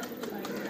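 Pigeons in a rooftop loft in Karachi, Pakistan, give a brief, close bird call against a busy background of noise. A voice may be mixed in.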